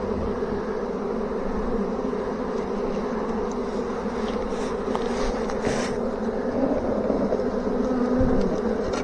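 A large honey bee swarm fans its wings at a swarm trap, making a steady, dense buzzing hum that holds evenly from start to finish at close range, with no voices.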